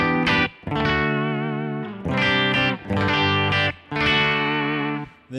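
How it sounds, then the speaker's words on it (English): Clean, shimmering electric guitar through a Kemper Clean Deluxe Reverb profile, with chorus-like wavering, plays ringing chords in a few phrases separated by brief pauses, close and alone. "Going to the Clean Deluxe Reverb"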